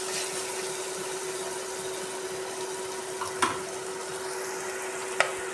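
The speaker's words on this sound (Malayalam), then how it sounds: "ഇതിനകത്തേക്ക് ഒരു 1/2 സ്പൂൺ ഉലുവ കൂടി ഇട്ട് കൊടുക്കാം. പച്ചമണം മാറുന്നവരെ ഒന്ന് വഴറ്റിയെടുക്കാം." Fenugreek seeds sauté in a pan with a steady, soft hiss of frying and a faint constant hum, broken by a couple of light clicks near the end, with no one speaking.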